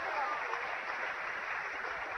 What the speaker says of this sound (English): they're getting a nice round of applause from the partisan Hutchinson crowd here